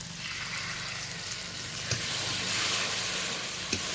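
Poppy seed paste ground with green chilli and salt fries on low heat for egg posto, a gentle, even sizzle with a couple of faint taps of a spoon.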